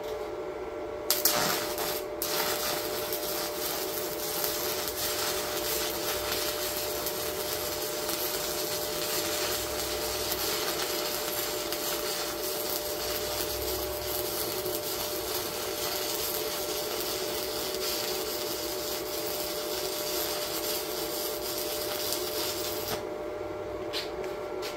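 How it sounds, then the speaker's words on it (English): Stick welding with a Yeswelder Arc 145ds maxed at 145 amps on 3/16 steel plates gives a continuous loud crackling, frying hiss with a steady tonal hum, sustained for over twenty seconds after a brief start. "I'm going to weld these two plates of 3/16"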